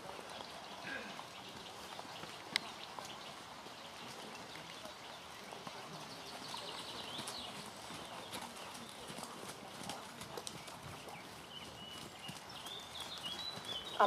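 Horse hooves clip-clop on the footing of an indoor riding arena during dressage, a faint, steady rhythmic patter heard at a distance over a soft background hiss.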